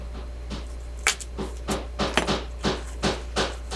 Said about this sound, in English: Uh-oh, somebody's hammering.